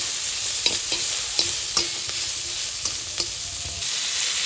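Vegetables and fresh leafy greens fry in a pan for a baby's fish curry, giving a steady sizzle broken by repeated taps and scrapes of a stirring spoon, with no voices.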